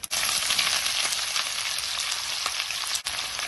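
Sliced large onions, a mix of red and white, sizzle in a pan for a Sri Lankan dried anchovy fry, a steady close hiss and crackle with no talk.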